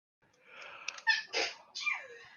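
A person sneezes during an online tabletop Dungeons & Dragons session, a cluster of short, sharp bursts close to the microphone over about two seconds, with no talk.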